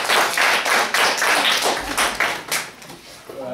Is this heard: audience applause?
yes